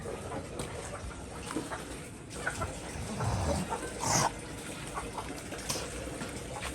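Hens in a small home flock cluck now and then, soft and somewhat distant, with brief louder clucks standing out over a quiet outdoor background and no talking.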